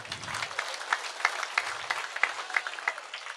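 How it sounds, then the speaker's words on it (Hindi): A crowd claps in a steady patter at a village political rally, with several sharper claps standing out and some quiet murmuring underneath. "ताली बजाओ"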